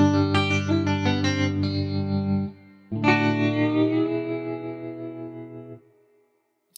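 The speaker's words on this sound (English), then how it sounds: "It's easy to choose a preset guitar tone from the more natural clean tones like this," Clean electric guitar preset played on an Evolution Stratosphere keyboard: a run of plucked single notes and chords ringing out, a pause, then a sustained chord that fades away, heard alone with no talking.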